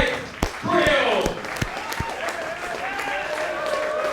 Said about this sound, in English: Big round of applause for our main event winner